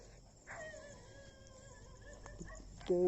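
A dog whimpers and yips softly at a distance, thin whining cries over quiet background, with a sharper yelp at the end.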